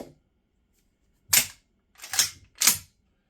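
A Canuck 12 gauge shotgun cycles dummy rounds: three sharp mechanical clacks, one alone and then two in quick succession, close and clear in a quiet setting.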